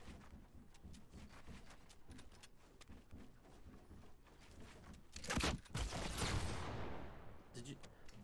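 Shotgun fire in a multiplayer shooter video game, sharp bursts among rapid footsteps and clatter, with one loud blast and a long decaying roar near the middle, while players talk excitedly over it.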